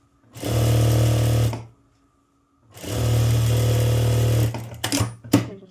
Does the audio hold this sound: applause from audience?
no